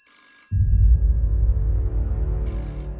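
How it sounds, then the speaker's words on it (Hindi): A telephone rings in short electronic bursts, one at the start and another near the end, over a loud low rumbling hum in between. "मैं फोन सुन के आती हूँ।"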